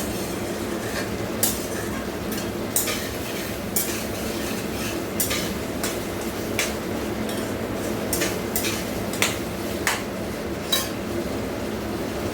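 Spice masala stirs and fries in a pan, with a spatula clinking and scraping against the metal at a regular beat of roughly one stroke per second over a continuous background sizzle.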